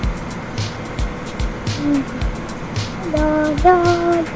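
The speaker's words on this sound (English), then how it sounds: "Mike, please drive fast, please" A cartoon car from the Ice Scream 8 animated game speeds along with a steady engine drone and repeated low thumps, while a high-pitched voice chatters and hums over it.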